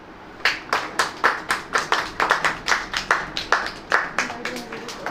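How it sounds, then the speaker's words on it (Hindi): A church congregation claps hands in a steady, even rhythm, about twenty sharp claps in quick succession, close and moderately loud with no talk over them. "ताली बजाइए।"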